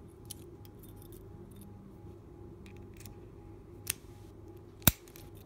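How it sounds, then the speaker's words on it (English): Keys jangle and click while being tried in an Abus Titalium 64TI 30 padlock, a few quiet metallic rattles followed by two sharp, close clicks near the end. "Let's just try the keys in it."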